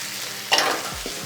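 Calamari and prawns hit hot sambal in a pan, giving a short, close burst of sizzling and frying with a faint stir afterward.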